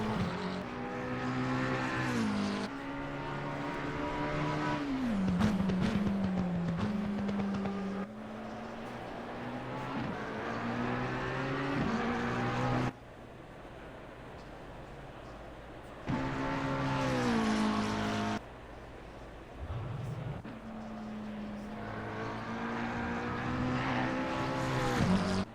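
A McLaren GT race car in Assetto Corsa Competizione lapping Oulton Park, its engine note rising and falling through gear changes with sharp downshifts and brief lifts, loud and continuous throughout.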